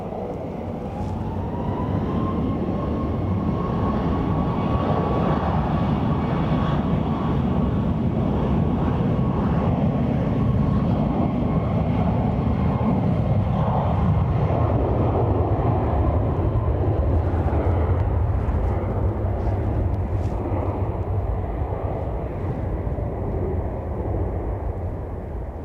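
A Ryanair jet takes off from runway 10 right at Dublin Airport on a windy day, its engines a loud, sustained roar with a rising whine that slowly fades, mixed with heavy wind buffeting the microphone.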